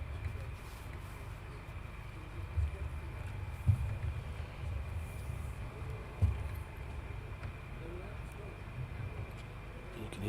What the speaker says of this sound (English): You can hear the engine running again in the background.